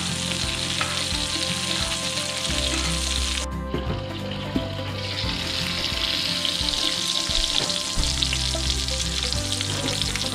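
Spruce grouse meat fries in a pan of butter with a loud, continuous close sizzle and crackle, the hiss briefly dropping before surging back.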